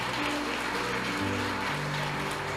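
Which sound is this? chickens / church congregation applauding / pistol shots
church congregation applauding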